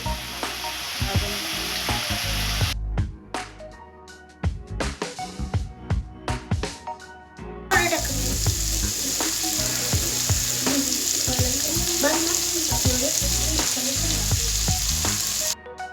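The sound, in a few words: red chili powder and spices being mixed while frying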